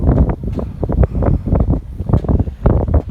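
Strong gusts of wind batter the microphone beside water in Shanghai, in heavy, uneven rumbling bursts, loud and close throughout.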